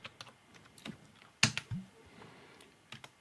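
Quiet, scattered keystrokes on a computer keyboard as a terminal command to install Tomcat 8 is typed on Ubuntu 17.10, with one sharper, louder key tap partway through.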